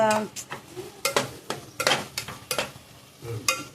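Spinach (palak) with salt being stirred in a pan for dal palak, a spoon scraping and clinking against the metal in irregular strokes over a soft sizzle.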